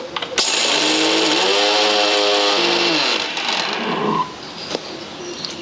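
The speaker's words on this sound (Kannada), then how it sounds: "ಈಗ ಮುಚ್ಚಳ ಮುಚ್ಚಿ ನುಣ್ಣಗೆ ಪೌಡ್ರ್ ಮಾಡ್ಕೋತೀನಿ ರೀ" A kitchen mixer grinder pulverises roasted gram into fine powder, a loud steady whine rising in pitch as the motor spins up, holding for a few seconds, then dropping away and stopping.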